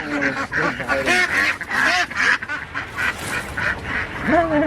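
Ducks in a poultry pen during a roundup, quacking and honking in repeated overlapping bursts, close and loud and continuing without pause.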